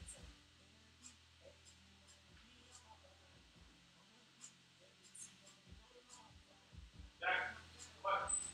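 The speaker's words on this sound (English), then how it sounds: "Negotiations with the dog." A dog barks a few times indoors in a home office during a live day-trading session, the short sharp barks bunched near the end over a steady background hum and low room noise.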